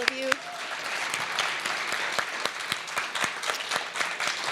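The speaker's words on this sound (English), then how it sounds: "One more round of applause to all of you." Audience applause at a live panel event on medical cannabis, dense and sustained clapping from a crowd filling the room, with a brief voice near the start.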